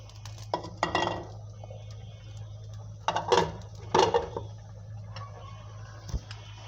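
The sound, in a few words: fried rohu fish added to simmering curry in pan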